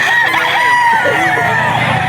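A rooster crows loudly and close by, one long drawn-out call filling the whole moment.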